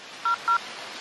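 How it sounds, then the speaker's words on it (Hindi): Two short electronic telephone keypad tones beep in quick succession in a Shin Chan cartoon scene, clear and close over a faint background hum. "1 मिनट रुको, एक फोन करती हूँ।"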